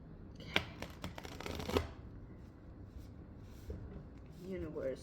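Tarot cards are shuffled in quick, crisp riffling bursts early on, then fade into a quieter, soft rustle against a low background.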